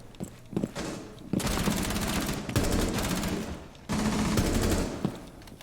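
LMG fire in a shooter video game: long sustained bursts of rapid automatic shots, loud and close, broken by short pauses between bursts.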